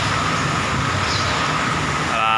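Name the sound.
afternoon road traffic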